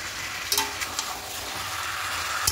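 Potatoes sauté with spices in a pan for a thin chicken curry, giving a soft, steady sizzling hiss with a few faint clicks of stirring.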